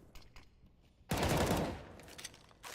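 Rifle fire in a Counter-Strike match: a loud, sudden burst of rapid gunshots that rattles on for about a second and then tails off, after quieter scattered game sounds.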